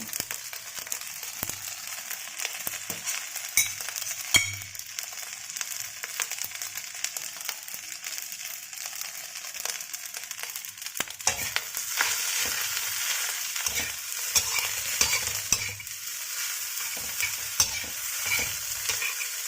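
Fried rice with salted fish being mixed with egg and prawns in a frying pan: a continuous close sizzle with repeated scraping and tossing of a spatula, the stirring growing busier toward the end, no speech.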